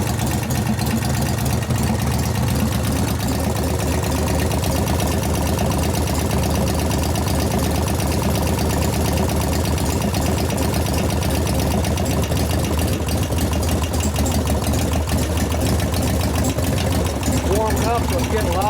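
A 1988 Harley FXR engine idles loud and close with a steady lumpy rhythm, hydraulic lifters clattering on top in a fast metallic tick, while a person talks over the running motor.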